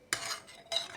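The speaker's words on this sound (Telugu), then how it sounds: "ఇగో ఇట్లా గడ్డలు లేకుండా కలుపుకోవాలి మొత్తం" A spoon stirring a mixture in a pot to work out the lumps, heard as two brief, close scraping swishes with a short pause between them.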